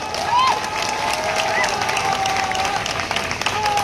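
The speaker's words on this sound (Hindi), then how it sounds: "अब ये तालियां बता रही है कि यकीन है आप लोगों को।" A crowd at a political rally for AIMIM leaders claps steadily, a broad wash of applause with scattered whistles and cheers rising above it, voices mixed in.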